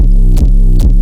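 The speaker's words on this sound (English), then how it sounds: "Obviously I'm modulating the master tuning and it's -3" Loud synth sub bass wobbles as an LFO modulates its master tuning, the pitch dipping in a regular pulsing wow roughly twice per second, with no voices.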